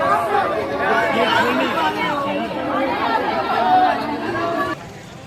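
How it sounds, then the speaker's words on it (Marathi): Dense crowd chatter from a packed temple queue on a Sunday at Omkareshwar, many overlapping voices forming a steady, close hubbub throughout, dropping slightly just before the end. "ही गर्दी बघा निसता गर्दी लय आज गर्दी आहे"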